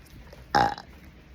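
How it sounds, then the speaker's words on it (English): A single short, throaty burp from a person, close and fairly loud, lasting under half a second against a quiet room. "haven't given you a little burp fest in a while, so here it goes"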